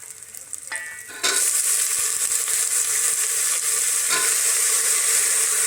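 Onion sizzling and crackling in a hot pan, a quieter start giving way at about one second to a loud, steady frying hiss that carries on to the end, with occasional stirring scrapes and no talking.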